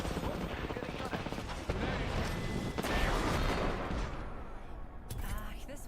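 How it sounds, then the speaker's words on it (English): Apex Legends gunfire hammers at an enemy's shield, a dense, continuous wash of rapid shots and impacts at close range with some talking mixed in. "The enemy shield is getting shot at."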